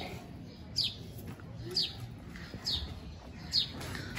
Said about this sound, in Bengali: সুন্দর কবুতর।